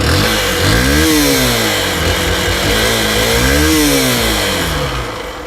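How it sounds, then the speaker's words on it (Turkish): A Honda CB125F single-cylinder motorcycle engine revs up twice, pitch rising and falling in loud, close bursts over a steady rough idle. "motorun sesini bir dinletelim"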